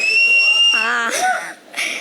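A shrill whistle at a press conference, a high sustained tone giving way to mixed voices and short bursts of noise from the room, with people talking around it.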